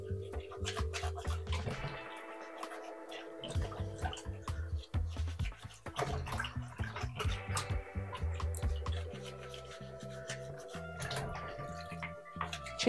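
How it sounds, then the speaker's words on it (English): Raw chicken feet are washed under running water, with splashing, trickling and dripping broken by short pauses, close and quiet. "And we're just going to wash our chicken foot."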